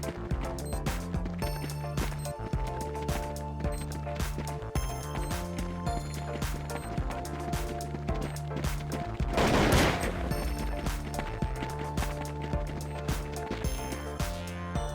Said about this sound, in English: It was Counter-Strike, planting the bomb, terrorist versus counter-terrorist.